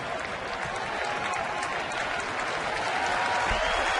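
At a Toronto at Baltimore baseball game, the crowd applauds a pitcher's performance with a steady, even wash of clapping and stadium noise from many fans, unbroken throughout and with no talking.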